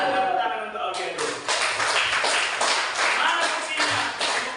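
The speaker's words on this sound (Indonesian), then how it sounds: "Kasih tepuk tangan untuk Aulia dulu" A classroom of students claps for a classmate, a dense patter of many hands that runs loud and steady, then dips briefly and swells again, with chatter from the room mixed in.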